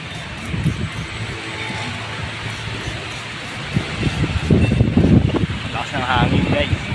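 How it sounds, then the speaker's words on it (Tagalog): Strong outdoor wind rumbles and buffets the microphone in gusts while a person talks over it. "Lakas ng hangin, guys."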